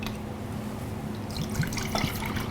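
Water pours into a container for pickle brine, with a steady liquid rush that grows louder and splashier partway through.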